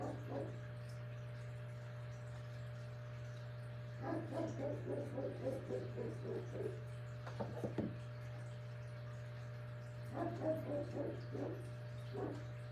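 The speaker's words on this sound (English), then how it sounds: "he's got a few dogs up there, and she sits out there and barks at them" A dog on a hill nearby barks in two bursts of repeated barks with a few single barks between them. A steady low hum runs underneath throughout.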